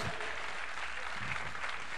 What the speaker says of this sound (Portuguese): Vamos aplaudir mais forte então